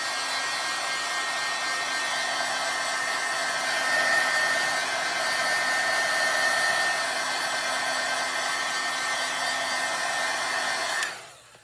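A hair dryer blows steadily over paint on paper, a loud, close, continuous whooshing hum lasting about eleven seconds before it switches off and winds down, with no voices.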